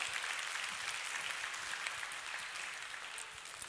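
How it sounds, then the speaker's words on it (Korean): Congregation applause during a church service: steady, dense clapping from many hands, fairly distant and soft, filling the whole stretch without speech. "박수를 쳐주시면 감사합니다."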